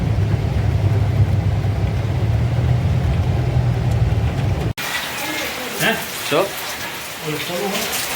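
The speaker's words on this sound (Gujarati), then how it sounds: "વરસાદ છે જોરદાર" Heavy rain roars steadily and close for several seconds, then breaks off abruptly and voices talk over a softer background.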